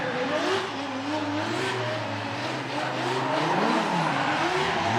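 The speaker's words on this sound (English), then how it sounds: "Little celebratory donuts." A BMW drift car running celebratory donuts at a championship drift event, its engine droning and rising in pitch as the tires squeal continuously, loud and sustained with no talking.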